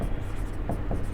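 Chalk or marker writing on a board during a physics lesson, short scratchy strokes in a quick series over a low room hum, with no speech.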